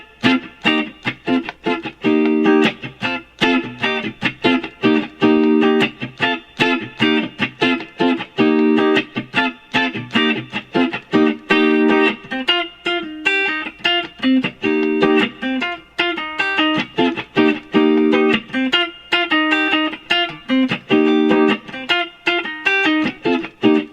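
An electric guitar plays a song, with both parts combined into one rhythmic riff that repeats in short bursts through a clean amplified tone, loud and close.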